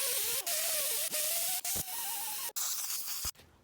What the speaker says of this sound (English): I take an angle sort of grinder with one of these type wheels, and what I do is I just polish the surface here